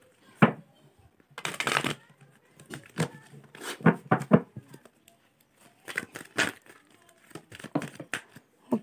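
Tarot cards are shuffled in bursts of riffling and flicking, close and crisp, with short rustles and taps between pauses.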